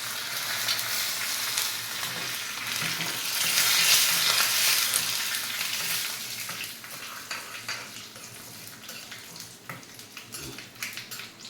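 Mustard seeds, urad dal, curry leaves and dry red chillies frying in hot oil for a chutney tempering: a bright, hissing sizzle that swells midway then settles, with light crackles and stirring, close and alone.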